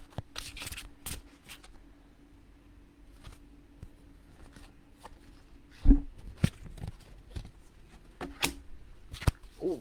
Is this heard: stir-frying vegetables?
no